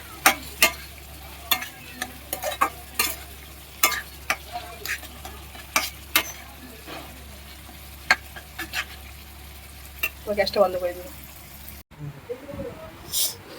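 A spoon scrapes and taps through lote (Bombay duck) fish curry in a pan, giving irregular close clicks and knocks over a low steady sizzle, with some louder clatter toward the end.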